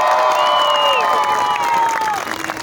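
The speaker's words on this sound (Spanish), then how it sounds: "¡Fuerte el aplauso a los ricos!" A crowd at an outdoor stand-up comedy show in Coyoacán claps and cheers, a dense burst of applause with whoops and shouts that tapers off after about two seconds.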